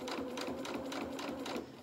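A sewing machine stitches a small fabric shirt in one short, steady, close run of even whirring.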